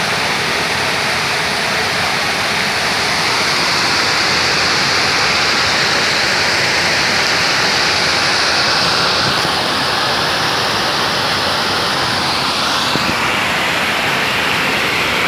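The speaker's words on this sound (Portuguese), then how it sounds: "O riacho transbordou." Floodwater from an overflowing creek rushes loudly and steadily down a residential street after heavy rain in Brazil's Northeast, a dense continuous roar like a waterfall filling the whole clip with no voices.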